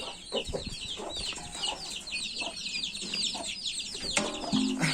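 Chickens and eleven growing chicks cluck and chirp continuously at close range, with a busy mix of peeping calls and occasional louder squawks throughout.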